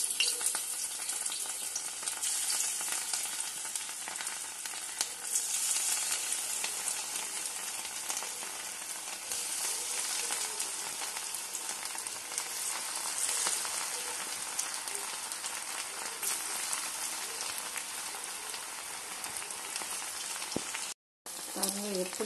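Cauliflower 65 pieces deep frying in hot oil, a dense, steady sizzling hiss that runs close and loud for the whole stretch, with a brief dropout near the end.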